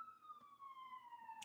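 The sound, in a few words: ambulance siren passing in city street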